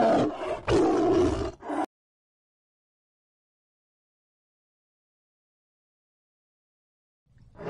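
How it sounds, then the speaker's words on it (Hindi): A male tiger calls out to a tigress with a loud, close roar lasting under two seconds, followed by long silence and a faint low rumble returning at the end. "नर बाघ मादाओं के साथ ज्यादातर आवाज के जरिए और रासायनिक संकेतों के जरिए संवाद करने की कोशिश करते हैं।"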